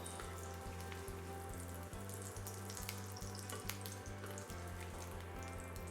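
Pumpkin fritters fry in oil in a pan, giving a quiet, continuous crackling sizzle over a faint low pulsing background.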